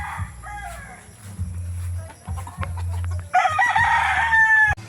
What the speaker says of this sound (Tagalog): Daming manok dito mga kababayan.